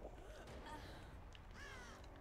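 A crow caws in Dead by Daylight, a couple of faint, hoarse calls against quiet game ambience, with a voice talking lightly in the background.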